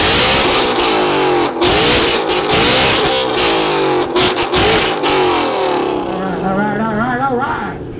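A Ford Mustang at an outdoor loudest-exhaust competition revs hard, its loud, raspy exhaust roaring in repeated surges close by, with crowd voices mixed underneath before the engine settles toward the end.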